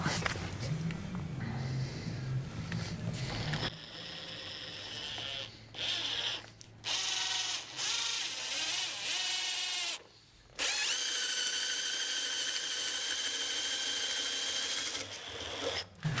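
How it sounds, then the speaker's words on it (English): A power drill whirs in steady bursts while drilling a centre hole, stopping briefly between runs, loud and close, with a higher-pitched sustained whine in the later stretch. "I've just drilled a centre hole in there for demonstration purposes"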